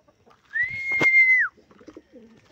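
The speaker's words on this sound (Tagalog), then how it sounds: "Ito yung mga kalapatids." A pigeon in a small home loft gives a single drawn-out, whistle-like coo of about a second, close and clear against near silence, with faint soft sounds after.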